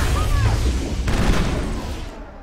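A quick burst of gunfire from the space game Privateers with the Ironlady mod, dense booming shots rolling together over about two seconds, loud and close.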